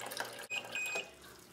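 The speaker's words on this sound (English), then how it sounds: "it's just moving the water and creating some air bubbles" A small iDoo hydroponic garden pump moves water and makes air bubbles, a faint trickling and bubbling with a few thin high tones, close and quiet.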